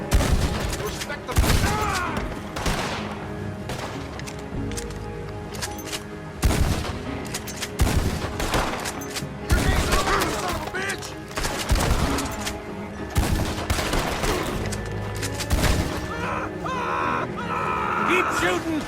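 Gunfire in the video game Red Dead Redemption 2, repeated loud gunshot bursts and volleys throughout a chaotic firefight, with voices shouting over the shooting.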